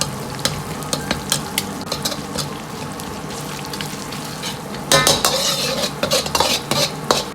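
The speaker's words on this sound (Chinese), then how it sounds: "接着下入火锅底料稍微多一点， 炒出香味，炒出颜色。" Hot pot base being stir-fried in oil in a wok, with constant sizzling and frequent sharp metal spatula clanks and scrapes against the pan, growing louder and busier toward the end.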